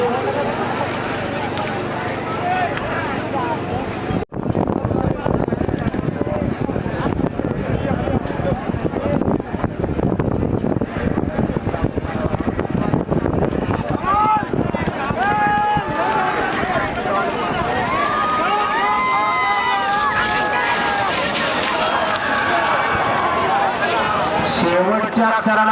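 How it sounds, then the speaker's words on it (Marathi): Three bullock carts race at a bullock cart racing event in Asgani, Khed, hooves pounding rapidly under a loud, excited commentator's voice, with crowd noise and wind buffeting throughout. "सुंदर अशा तीन गाड्या पळत आहेत"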